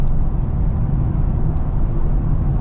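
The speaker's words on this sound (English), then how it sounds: "Get a little bit of tire noise with these all-terrain tires" Steady broadband road and tire roar from all-terrain tires on a 2023 Ford Explorer Timberline at highway speed, heard from inside the cabin as a constant, loud, even rumble with no talking.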